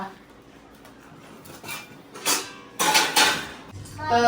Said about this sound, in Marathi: थोडीफार जी माझी उरलेली सुरलेली भांडी आहे ते पण काढून मी आता टेबल व्हायला लागला